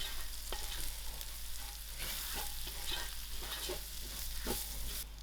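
Spicy fish head curry base being stirred as it fries in a pan, close sizzling with repeated scraping strokes of the utensil at irregular intervals, quiet overall and without speech.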